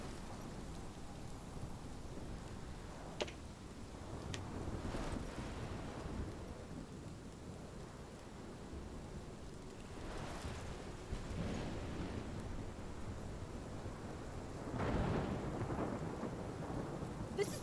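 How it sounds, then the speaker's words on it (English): A thunderstorm in the video game Life Is Strange rumbles under steady heavy rain and light wind, with several low thunder rolls swelling and fading across the stretch, quiet and distant overall. "This is my storm."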